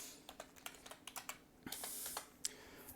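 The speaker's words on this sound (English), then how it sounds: "to do that, you type in show options" Brisk keystrokes on a computer keyboard entering a command in a Metasploit terminal, a quick run of separate clicks followed by a short burst and a sharp final keypress, close and quiet with no talking.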